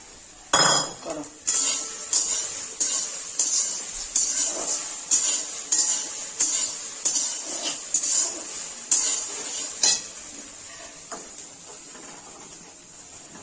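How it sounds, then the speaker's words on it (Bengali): A spoon repeatedly knocks and scrapes against a metal pot while payesh, a rice pudding, is being stirred, giving a steady run of close, sharp clinks and taps with no voices present. "একটু নেড়ে দিলাম"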